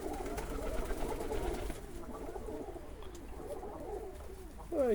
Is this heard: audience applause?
no